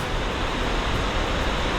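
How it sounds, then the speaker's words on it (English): A powerful waterfall on a Southern Oregon hike roars in a loud, constant wash of broadband rushing water that fills the whole moment with no pause or variation. "Incredible waterfall, beautiful"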